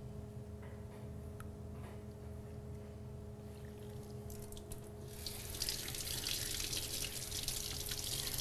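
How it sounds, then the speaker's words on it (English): Water runs from a sink tap in a kitchen while a plastic cake stencil is rinsed, a steady splash under a low hum that grows louder and brighter over the last few seconds. "And then I wash it in the sink."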